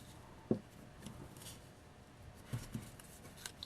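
Scissors snip paper for a paper bead, a few quiet, close cuts with a sharp click near the start and more soft snips later, spaced irregularly.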